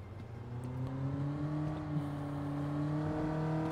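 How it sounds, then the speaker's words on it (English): A car engine revving in the video game Sleeping Dogs, a steady droning hum with smoothly rising and falling pitch, heard from somewhat above at moderate loudness with no talk over it. "Why am I hearing like a engine revving above?"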